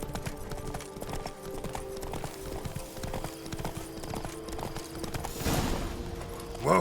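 Hooves of Roach, Geralt's horse in The Witcher 3: Blood and Wine, clip-clop in a steady walking rhythm throughout, with a brief whoosh near the end.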